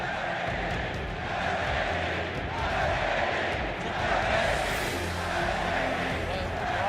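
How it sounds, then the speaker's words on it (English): A large arena crowd at the League of Legends World Championship grand final chants and roars for SKT T1 after their victory, a dense, sustained wall of cheering with rhythmic pulses, heard at a distance with a voice talking over it. "the crowd erupting in chants for SKT"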